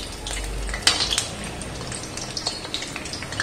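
Dal vada frying in hot oil, a steady soft crackle and hiss with a few sharper clinks of a utensil against the pan, close by and without speech.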